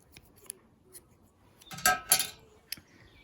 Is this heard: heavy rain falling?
no